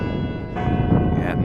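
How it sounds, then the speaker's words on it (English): A bell tower ringing the hour by a frozen lake during ice fishing, one steady tone sounding faint and distant behind wind and low outdoor rumble. "And the bell tower just started dinging."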